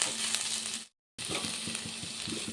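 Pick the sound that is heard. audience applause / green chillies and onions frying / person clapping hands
green chillies and onions frying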